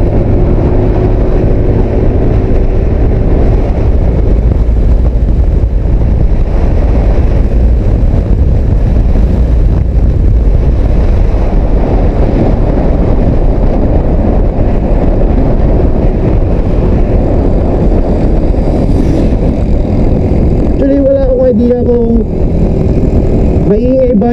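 A motorcycle with about 154 km on it riding through streets around Urdaneta City, recorded on a GoPro Hero 4: a loud, continuous roar of engine and buffeting wind noise with no pause, a few faint tonal whines near the end.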